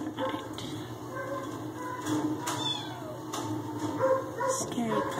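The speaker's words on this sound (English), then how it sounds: "Scary place for 2 tiny kittens to be" Two tiny kittens meow in short, high cries scattered over several seconds, close by, mixed with soft handling noises and a person murmuring to them.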